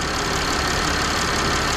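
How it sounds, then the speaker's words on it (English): Steady idling engine of a Mercedes W164, a dense continuous rumble and hiss heard close up with no pauses. "So now that we already started the engine"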